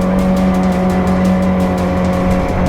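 A turbocharged Suzuki Jimny climbs a steep hill under steady power, its engine droning loud and constant from inside the cabin with a firm low hum and no letup.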